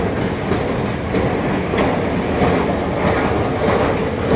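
A metro train rolls past close by, a loud, steady rumble with rhythmic clickety-clack of wheels on rail throughout, no voices.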